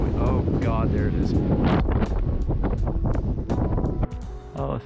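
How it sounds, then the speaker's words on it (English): A strong wind gust buffets the structure high up on a sail-shaped building, a loud rushing roar with scattered knocks and flaps that eases toward the end, while a person speaks over it. "that huge gust of wind"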